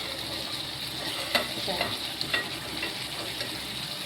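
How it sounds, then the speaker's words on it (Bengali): Curry fries in hot oil with a steady, moderate sizzle, while light scraping taps from a utensil stirring the pan break through now and then. No one speaks. "তেল ছেড়ে দিয়েছে, এবারে তেল ছেড়ে দিলেই মনে করবেন হয়ে গেছে।"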